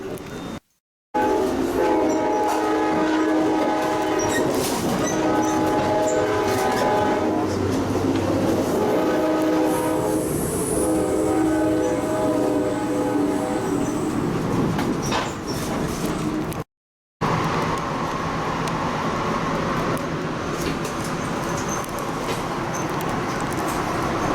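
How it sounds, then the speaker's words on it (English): An Amtrak Cascades Talgo passenger train rumbles along at speed between Seattle and Portland with steady rolling and rattling noise, a sustained horn-like tone early on, and two brief silent gaps. "The Talgo train sets are from a Spanish company, and they're usually lower to the ground and more aerodynamic"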